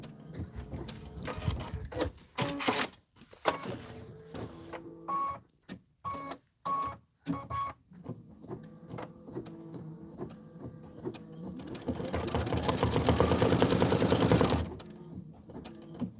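A home embroidery machine stitches freestanding autumn leaf and pumpkin designs, with rhythmic mechanical chattering and short pauses, then a longer, louder burst of rapid stitching near the end.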